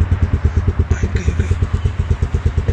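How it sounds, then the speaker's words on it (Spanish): Motorcycle engine idling and pulling away as riders set off, a loud rhythmic chugging pulse close by, with brief voices faintly in the background. "Y aquí ya me trepé a la moto, ya nos vamos."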